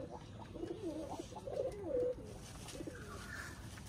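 Khulna tula pigeons coo softly nearby in a short run of repeated throaty, rolling calls, with no one talking.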